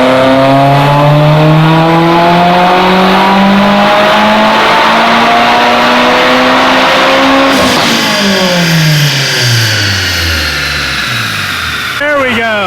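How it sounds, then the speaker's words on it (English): A Mitsubishi Evolution built to around 500 wheel horsepower roars loudly through a full dyno pull, its engine note climbing steadily for many seconds before easing off, and people talk in the background. "This one here is definitely gonna make the mark."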